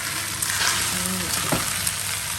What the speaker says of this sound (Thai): เดี๋ยวเอาใส่ไปผัดด้วยกันเลยค่ะ